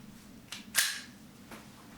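P320/M17 gas blowback gel blaster firing, a few quiet snappy clacks, one sharper pop standing out among softer ones, close by and with no talk.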